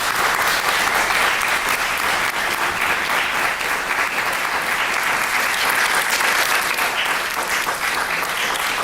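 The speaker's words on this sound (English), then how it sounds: "let's give a last round of applause" Closing applause from a conference audience after a keynote address, thick continuous clapping from a sizable crowd, loud and even for the whole stretch.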